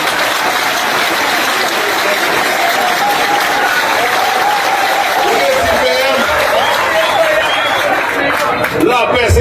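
Loud, sustained applause from a large crowd, dense and continuous for several seconds, with voices and chatter mixed in and a raised voice carrying over the clapping toward the end.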